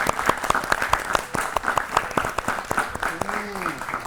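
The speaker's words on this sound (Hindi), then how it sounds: "जोरदार तालियां।" An audience gives loud applause at a children's classroom quiz show, dense rhythmic clapping that carries on steadily throughout, with a short voice near the end.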